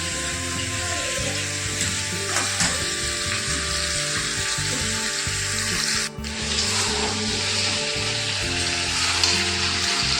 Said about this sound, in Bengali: আর মটন বিরিয়ানি হবে, তাই আলুগুলো ভেজে নিচ্ছি।